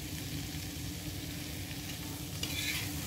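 Soft sizzle of tomato chutney cooking in a pan as it is stirred, a steady quiet frying hiss with a light scrape near the end, no voices.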